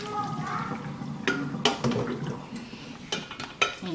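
Someone tilts a pot of noodles on a home kitchen stove and empties it. Metal clanks and scrapes of cookware come in short bursts amid soft sloshing, with people talking nearby.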